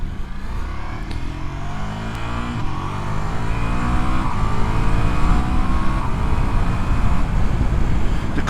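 Engine of a 2024 Ducati Multistrada V4S Grand Tour motorcycle pulling steadily in fourth gear at about 3,000 rpm and 37 mph, a low continuous drone with rising harmonics and wind rush, close and loud.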